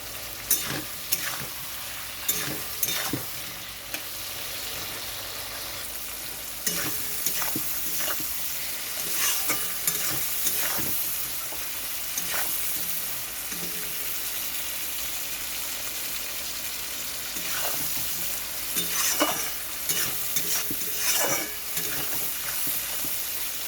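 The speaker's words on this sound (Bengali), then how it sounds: "একটু ভালো করে কষিয়ে নিচ্ছি। চিংড়ি মাছের কাঁচা গন্ধটাও চলে যাবে, ভাজা গন্ধটা চলে আসবে।" Shrimp and potatoes cook with spices in a pan for a ridge gourd and prawn dish, sizzling steadily while a spatula stirs and scrapes at intervals, close and fairly loud without speech.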